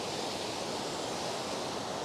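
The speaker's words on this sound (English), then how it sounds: "So there'd been a huge wheel in between these two buildings where you can see the waterfall" A waterfall pours between old gunpowder factory buildings, giving a steady broadband rush of falling water that stays even and continuous with no other sounds.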